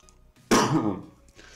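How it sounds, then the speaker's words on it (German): A single harsh cough or throat-clearing burst, loud and close, with quiet background before and after. "Ich musste nur husten, keine Sorge."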